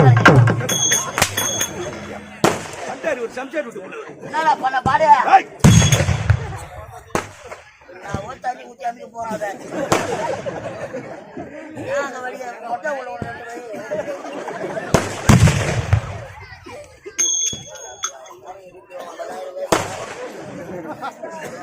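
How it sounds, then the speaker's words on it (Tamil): Loud sharp firecracker bangs go off at irregular intervals, near and echoing, while people chatter and call out between them. "வெடி வெடிக்கிறாங்க வாடா வெடி வெடிக்கிறாங்களா"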